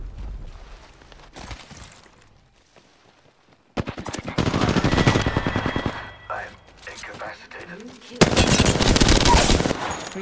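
Automatic gunfire from the Apex Legends battle royale, coming in bursts of rapid shots with quieter gaps between them, loud and close, and heaviest in a dense volley near the end.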